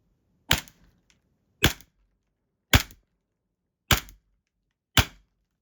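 A Western Arms Snake Match Delta 1911 gas blowback airsoft pistol fires 0.2 g BBs in five sharp, evenly spaced cracks about a second apart, each with a brief decay, close and clear against silence.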